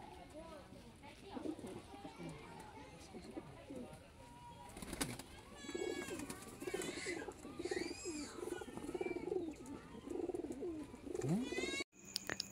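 Kalanka pigeons, a breeding pair, coo in a loft, with soft repeated bubbling calls under someone talking at length; wing flutters and scuffling break in briefly near the end.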